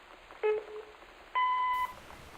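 Answering machine in the video game Gone Home gives two electronic tones before messages play: a short beep, then a longer steady tone, clean and close with no voices.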